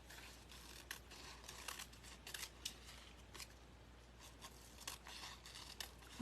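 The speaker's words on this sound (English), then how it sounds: "If the leaves are too big, trim them. And by trimming, I mean take your scissor." Scissors snipping fabric leaves for a fall wreath, a series of quiet, crisp cuts and rustles at irregular intervals, close by with no voices.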